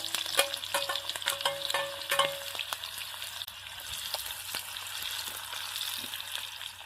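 Green chili and onion frying in hot oil in a pan while preparing a chilapi fish curry, a constant close crackling sizzle with scattered pops and stirring clinks, no talking.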